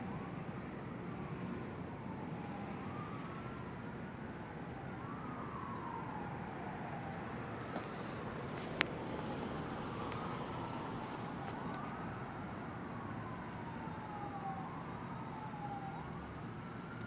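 Police sirens wail in a continuous overlapping chorus from a distance in Upland, their rising and falling sweeps repeating over steady low traffic rumble, with a brief sharp knock midway.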